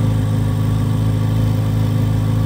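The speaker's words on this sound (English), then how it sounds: "let's stop and listen to that exhaust" A 2023 Corvette Z06 3LZ convertible with a 670 hp V8 idles steadily, its exhaust a loud, close, even rumble with no talking over it.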